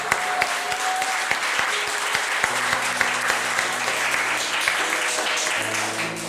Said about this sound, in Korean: 우리 하나님께 영광 박수 올립시다.